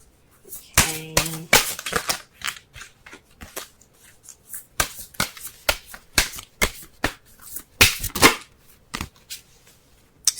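Romance Angels oracle cards are shuffled by hand in quick riffles and flicks, a burst of sharp papery ruffling followed by scattered crisp snaps and slaps of cards being handled and pulled, close and clear with no talk.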